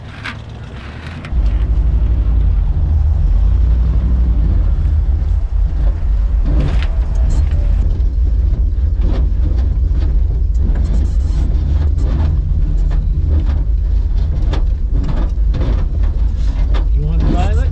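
A 1968 Oldsmobile 442 muscle car engine starts and runs at a loud, steady idle up close, with a rough rumbling drone, occasional revs and faint voices over it.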